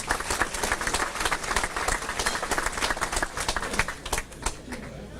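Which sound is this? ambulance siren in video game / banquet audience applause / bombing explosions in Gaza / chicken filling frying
banquet audience applause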